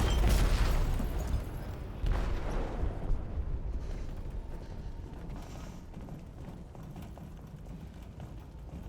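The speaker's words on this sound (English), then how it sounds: "They detonated an explosive in the hold." An explosive detonated in a ship's hold in the game Detroit Become Human, heard as a heavy low boom that opens loudly, followed by a second thud and a long, rumbling wash of debris and noise that slowly fades.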